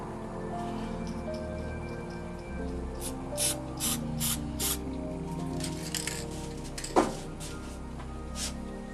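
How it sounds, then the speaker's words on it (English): An aerosol can of white spray paint hisses in a few short bursts while a halo is painted around a moon, with quiet scraping and handling sounds between the sprays. "So a little bit of white, so we'll just quick little spray around here"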